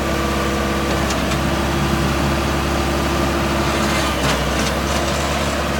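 A four-wheel-drive Mahindra 6010 HST tractor with loader and cab runs at a steady idle, its low diesel rumble close and constant throughout with no speech.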